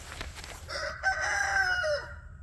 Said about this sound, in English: Two roosters right here, keeping a good eye on me.